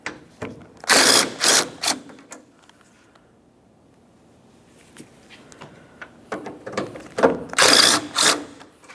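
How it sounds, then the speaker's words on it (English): Ratchet removing 10mm mounting bolts from the wiper transmission of a 2006-2011 Honda Civic: close, loud bursts of rapid clicking at the start and end, with a quiet pause between. "Now we can start removing our 6 10mm headed mounting bolts that hold the wiper transmission to the body of the vehicle."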